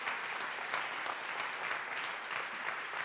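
Steady applause from a church congregation, a dense continuous wash of many hands clapping at even loudness throughout, with no voices over it.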